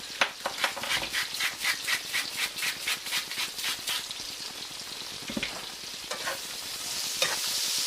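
Chicken Dijon is stirred in a hot pan on high heat. Quick, rhythmic scraping strokes repeat over a steady crackling sizzle, close by and fairly loud, then grow looser and sparser toward the end.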